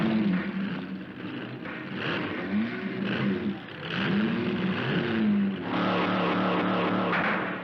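Cartoon cars revving in an automobile wrestling match, several mid-pitched engines whining and surging up and down in overlapping bursts, fairly close and continuous throughout.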